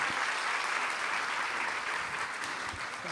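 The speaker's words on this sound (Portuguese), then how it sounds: "Eu queria uma salva de palmas para a nossa intérprete de Libras" Audience applause for a sign language interpreter at a literary talk event, a dense, steady wash of many hands clapping throughout, fairly loud and close, with no voices.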